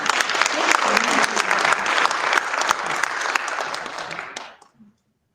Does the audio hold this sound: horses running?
no